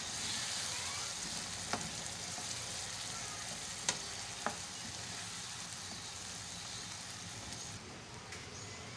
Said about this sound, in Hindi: अब इसके अंदर हम दाल ऐड करेंगे। अच्छी तरह मिक्स करूँगी।